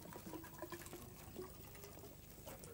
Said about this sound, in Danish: Er der en, der hælder vand i det høje glas imens, Martin?